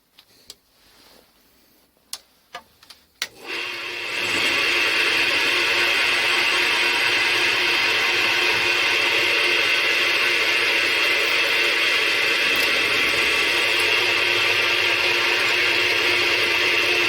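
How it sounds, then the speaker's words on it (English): After a few sharp clicks and taps, a drill starts a continuous loud whirring on a workpiece, first with a center drill and then a 6 mm drill, a steady high machining whine sustained to the end. "First I use a center drill followed by a 6 mm drill."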